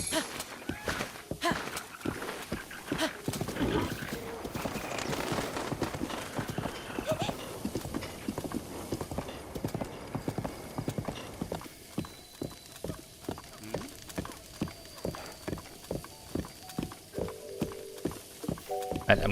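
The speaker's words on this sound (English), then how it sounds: "And I'm gonna park my horse here." Horse hooves clip-clop in a steady walking rhythm across ground in The Legend of Zelda: Breath of the Wild, close and fairly loud, with a brief whinny and someone talking over parts of it.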